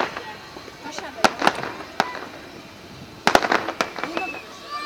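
Bonfire Night fireworks bursting at a distance, sharp cracks arriving in two clusters over steady outdoor background noise, with people talking nearby between the bangs.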